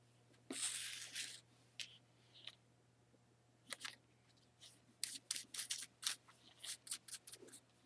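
Scissors snip through white card for a homemade Christmas card, a series of short crisp cuts, sparse at first and then in quick clusters, close by with no talking.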